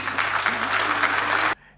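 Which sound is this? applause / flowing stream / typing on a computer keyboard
applause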